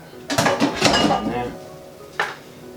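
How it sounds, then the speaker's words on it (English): A lid is set onto an oven-proof bowl of vegan roasted butternut squash risotto, giving a few close metallic clanks and scrapes in quick succession, then one final clink after a short pause. "so I'm going to put the lid on"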